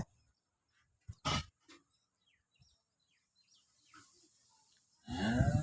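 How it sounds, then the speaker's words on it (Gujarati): A cow lets out a few short lows, then a long loud moo near the end, with quiet gaps and faint bird chirps between. "એક ગાય આ છે"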